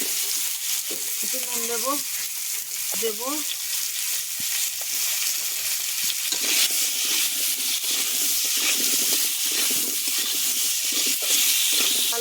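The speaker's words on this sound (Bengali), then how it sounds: "বাকিগুলো এরকম করে ভেজে নেব। আলুটা ভেজে" Potato pieces fry in hot oil for a Bengali pumpkin-and-potato fish curry, a dense, steady sizzle and crackle throughout, with someone speaking briefly over it early on.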